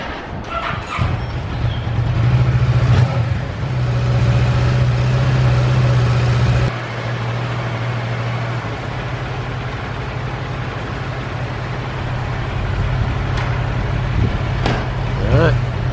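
A Kawasaki ER6n motorcycle engine runs steadily on a ride outdoors, a loud, continuous mid-pitched drone with a shift in tone partway through, and birds chirp in the background.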